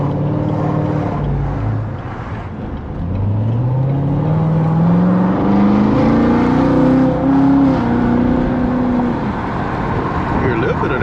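Engine whine from a Corvette Z06 on the road, a rising tonal note that climbs steadily in pitch as the car accelerates, sitting clearly over constant road and engine rumble.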